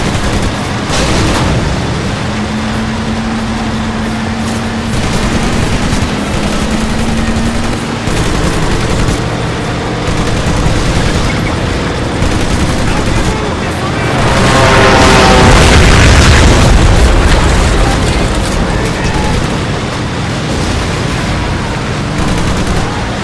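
Mortar explosions and gunfire in the video game Medal of Honor Pacific Assault: a dense, loud continuous din of booms and rattling shots, with a heavier swelling blast near the middle.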